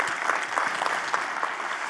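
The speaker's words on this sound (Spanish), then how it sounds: "Vamos, un aplauso." A conference audience claps steadily, a moderately loud even patter of many hands sustained throughout, with no voices over it.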